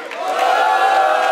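A crowd at a Portuguese-language freestyle rap battle cheers for a rapper, a steady sustained roar of many voices holding at high volume for the whole moment.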